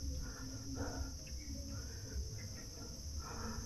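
Outdoor bird or insect calls in the East Java highlands, a steady high-pitched trilling drone with faint chirps over low background rumble, thin and distant.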